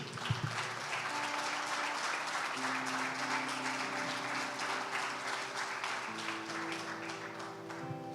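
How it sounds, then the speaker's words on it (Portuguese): A church congregation applauds in praise of Jesus during a sermon, a steady wash of many hands clapping throughout, with sustained organ or keyboard tones underneath. "pode aplaudir Jesus?"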